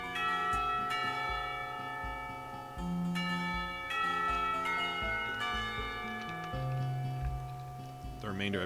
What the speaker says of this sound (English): The remainder of his sentence is buried beneath the ring of lunch bells